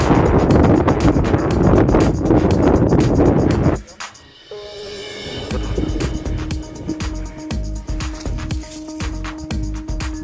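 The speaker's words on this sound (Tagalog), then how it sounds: "kusog gipud hangin ano kanindot" Strong wind buffets the microphone in a loud, rough roar during a bicycle ride at the old airport in Tagbilaran, Bohol, then drops sharply and continues as lighter gusts with some rattling and clatter.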